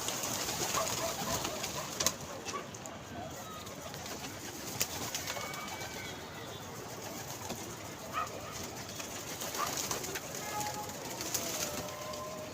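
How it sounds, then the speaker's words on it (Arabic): Pigeons cooing in a dark coop or loft, soft repeated coos and occasional wing flutters close by over a rustling background, with a voice briefly talking. "اهو الحمام اهو."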